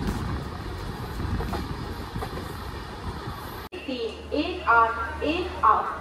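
Passenger train heading toward Tarapith, a steady rumble and rattle of carriages on the rails heard under someone speaking, then a quieter stretch with softer voices nearby.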